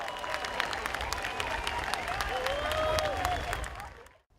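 Locals and tourists applaud the sunset outdoors in Rio de Janeiro, a broad crowd clapping steadily with some voices and whistles mixed in, swelling slightly before cutting off abruptly at the end.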